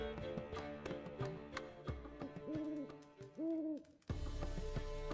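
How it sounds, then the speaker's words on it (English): Owl hooting in the video game The Witcher 3, a series of soft rounded hoots over a quiet ambient bed, ending with a sudden shift to a louder, fuller background. "Zoltan, venture to say a mage would have trouble turning that owl into a parrot."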